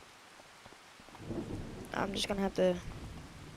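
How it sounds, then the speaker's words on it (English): Game rain and rumbling thunder from a farming video game swell from about a second in, with heavier bursts near the end, while a voice speaks briefly over the storm. "It's raining"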